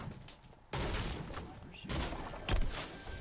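Shotgun fire in the video game Fortnite, a few loud blasts amid game noise at about 0.7, 1.9 and 2.5 seconds, with the sharpest shot near the end.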